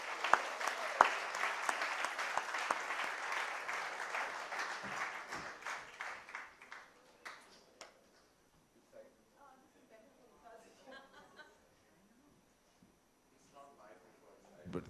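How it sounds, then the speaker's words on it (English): Audience applause at a celebrity book launch, a dense burst of clapping for about seven seconds that thins into scattered claps, followed by people talking and laughing. "So let's just give a big round of applause to this Renaissance woman."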